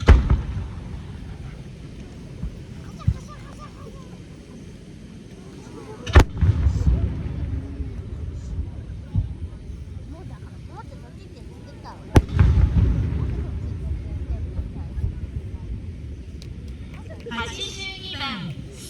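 Fireworks are launched at the Teradomari port festival, with two sharp loud bangs several seconds apart, each followed by rumbling crackle, over steady crowd murmur and an announcer's voice, and faint crackling near the end.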